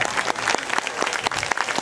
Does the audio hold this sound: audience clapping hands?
yes